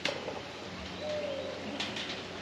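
An owl calls outdoors near a garden, a faint soft hooting set back among wind noise and low outdoor ambience, with no talk.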